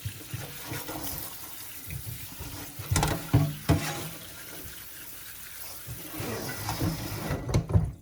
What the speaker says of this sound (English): And then we're gonna rinse them with nice hot water.